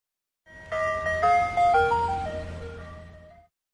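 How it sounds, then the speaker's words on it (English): An ice cream truck plays a short chiming jingle. The bright melody lasts about three seconds on its own, then fades out. "Ice cream truck."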